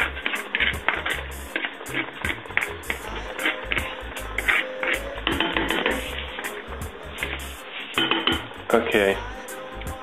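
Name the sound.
stirring onions in a pan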